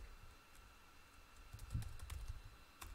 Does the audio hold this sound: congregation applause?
no